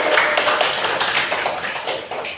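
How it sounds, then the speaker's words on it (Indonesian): Students in a classroom clap for a group during a microteaching lesson on electrolyte and non-electrolyte solutions, a brisk, close burst of many hands clapping at steady volume throughout. "tepuk tangan untuk kelompok 1."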